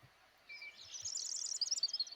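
Forest songbirds chirp and trill faintly in a short burst, ending in a quick series of rapid, bright notes with no voices.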